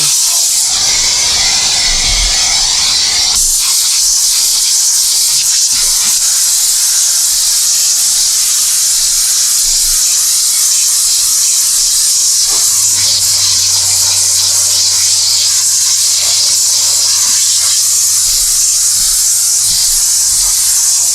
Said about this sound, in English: Makes a lot of steam.